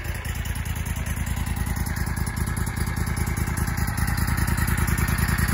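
A Wright riding mower with a Kawasaki 19 horsepower engine runs steadily nearby, a throbbing, clattering mid-pitched engine rumble with a fast, even pulse throughout.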